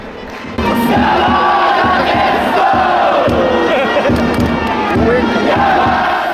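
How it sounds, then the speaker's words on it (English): A huge baseball crowd at Tokyo Dome during a Giants vs Swallows game chants and cheers in organized rhythmic waves, a loud, dense roar of voices that swells suddenly and then holds steady. "When your team is batting, you stand up and make as much noise as you want."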